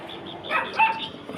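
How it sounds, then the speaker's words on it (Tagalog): A dog barks a few times at a distance, short yips rising over a steady outdoor background hum on a quiet morning street. "kanina pa yung aso na yan maingay."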